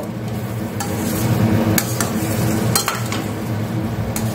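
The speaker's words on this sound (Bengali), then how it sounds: "এবার ফ্লেমটাকে ওই মিডিয়ামে রেখেই সমস্ত কিছুর সাথে ঝিঙেটাকে মিশিয়ে একটু কষিয়ে নেব।" Ridge gourd is stir-fried in a pan with cumin and coriander paste over a medium flame. A dense, continuous sizzle runs throughout. Several sharp clinks from a utensil striking the pan sit on top, and there is no talk.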